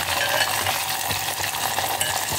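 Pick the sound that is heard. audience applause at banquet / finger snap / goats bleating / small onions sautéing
small onions sautéing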